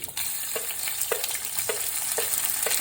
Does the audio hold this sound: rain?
no